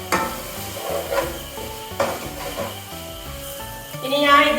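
A spoon stirring masala for chicken varattu in a frying pan, with scraping strokes about once a second over a soft sizzle and some background music.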